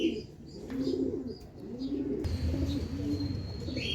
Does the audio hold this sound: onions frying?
no